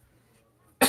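One short, sharp cough bursts out near the end after near silence, close and fairly loud.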